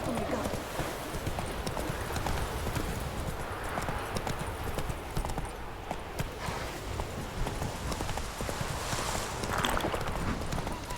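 Roach, the horse in The Witcher 3: Wild Hunt, trotting with a steady, continuous clip-clop of hooves close by, with ambient outdoor noise and a voice speaking over it.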